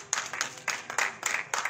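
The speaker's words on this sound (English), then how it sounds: "just give the Lord a hand clap" A church congregation claps in a quick rhythm, about seven or eight sharp hand claps in under two seconds, moderately loud and close.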